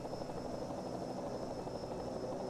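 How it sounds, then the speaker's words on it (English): A helicopter hovers over the Homestead-Miami race track, its rotor and engine making a steady, muffled broadband drone throughout. "we actually have a helicopter that we can reliably use"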